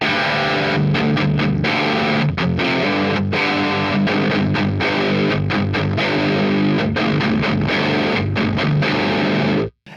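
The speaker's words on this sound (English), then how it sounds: "So with everything at 12 o'clock, the amp sounds like this with the guitar." Heavily distorted electric guitar through a Mesa Dual Rectifier amp with every knob at noon, riffing loud and thick with a chunky low end and short palm-muted breaks, cutting off abruptly at the end.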